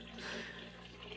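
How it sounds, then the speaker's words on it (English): A home dishwasher running, giving a steady wash of splashing water with a low motor hum underneath, continuous and fairly quiet throughout, with no talking. "All that noise y'all keep hearing is my dishwasher"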